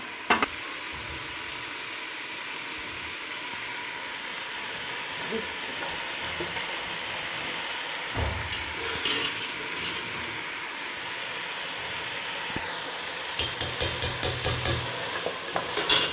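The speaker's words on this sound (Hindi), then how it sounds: "मटन को मैं अच्छी तरह से भून लूँगी" Mutton pieces frying in spice masala for mutton biryani, with a steady dense sizzle under repeated scraping stirs and a burst of rapid metallic spoon clinks near the end, no talking.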